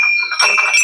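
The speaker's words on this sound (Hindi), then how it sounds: "जंगलों के पार्श्व में ये घंटियां इसको कितना सुरम्य बना रही हैं।" Temple bells ring at Hat Kalika temple amid dense deodar forest in Kumaun, Uttarakhand, a bright sustained metallic ringing with overlapping strikes, fairly loud and close, without talk.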